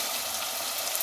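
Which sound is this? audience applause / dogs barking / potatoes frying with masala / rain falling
potatoes frying with masala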